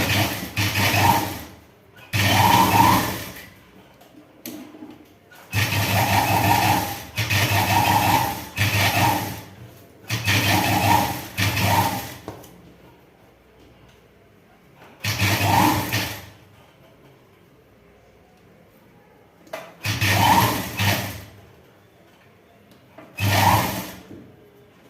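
A sewing machine stitches along the edge of chudi fabric in repeated bursts of a few seconds each, a close, whirring rattle separated by quiet pauses as the cloth is repositioned.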